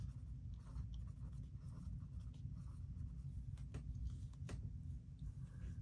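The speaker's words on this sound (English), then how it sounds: "Draw place value discs and arrows to represent each product." A pen scratches across paper while drawing place value discs and arrows for a fourth-grade math homework problem, soft continuous strokes with a few sharper taps over a low steady hum.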